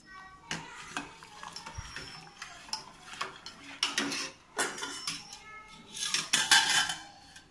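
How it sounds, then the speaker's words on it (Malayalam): Raw rice going into a pot of salted boiling water: scattered clinks and taps of utensils against the pot, then a louder rattling, splashing pour near the end, with no voices. "ഇതാ നമ്മുടെ അരിയുടെ വെള്ളം തിളച്ചിട്ടുണ്ട് നമുക്ക് അതിലേക്ക് അരി ഇടാം"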